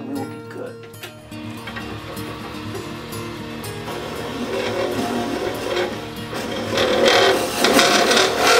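The bottom of a wooden cup made from firewood is hollowed out with a steady rasping, scraping carving sound that grows louder and rougher toward the end.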